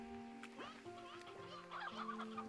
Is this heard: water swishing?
no